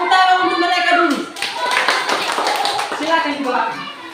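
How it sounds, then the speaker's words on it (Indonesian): Students in a classroom clap for a group that built a wall clock from cardboard, a brief burst of close, scattered hand claps mixed with voices talking over it. "tepuk tangan untuk mereka dulu"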